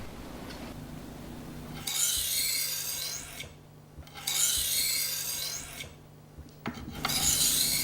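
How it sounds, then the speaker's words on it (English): A knife blade is drawn across a fine grit Norton sharpening stone, giving three long, rasping scraping strokes separated by brief quiet gaps, close and clear with no talking. "Resharpen the edge on the fine grit stone."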